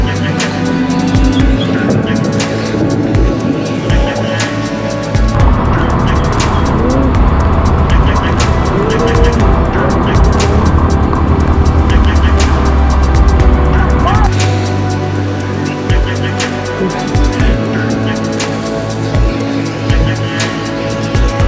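A Toyota Fortuner drives through floodwater in heavy rain at night, its engine rumbling steadily with splashing and road noise close by for the whole stretch, while voices talk intermittently over it.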